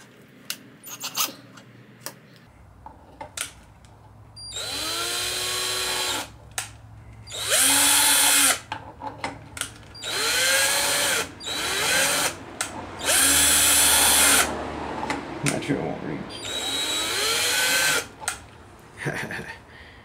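Drill spinning to lap a VS Racing 50mm wastegate valve, several whining bursts of a few seconds each with quiet gaps, close by, grinding and scraping between runs.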